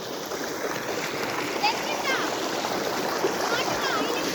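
A village stream gurgles and splashes steadily nearby, water rushing past sticks and grass in a constant broadband wash, with faint voices in the background.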